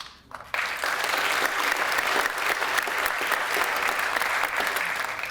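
Audience applause at a Veterans Day ceremony in Hingham, a steady crowd clapping that bursts in after a brief quiet moment and holds loud and even to the end.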